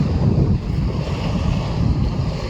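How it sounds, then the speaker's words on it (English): Strong wind roars and buffets loudly at the seaside, a deep continuous rumble with the wash of surf underneath. "It's very, very windy today."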